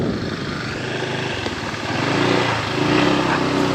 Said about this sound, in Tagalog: First time na napasabak yung motor niya ADB sa ganitong labanan ng ano, off-road.